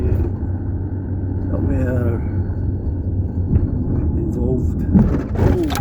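A car drives around a coal bing at Orbiston near Bellshill, giving a steady low engine and road rumble beneath someone talking throughout.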